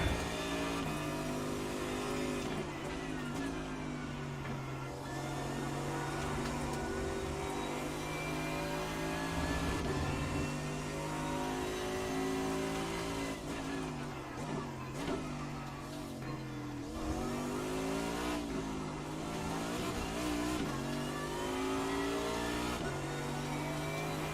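A BMW race car engine in a sim racing video game revs and accelerates continuously, its steady droning pitch rising and falling through gear changes, loud and close with no voices.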